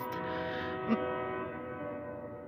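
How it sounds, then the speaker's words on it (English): A train horn or whistle holds one steady, droning note for a couple of seconds, fairly loud, with a faint knock partway through. "Did y'all hear that train?"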